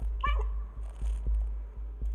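A single short meow from the cat in the PS5 game Stray sounds over a low rhythmic thumping background.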